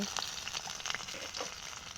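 Onions and green chillies frying in hot oil in a kadai, a bright crackling sizzle with scattered sharp pops and stirring scrapes, close and continuous.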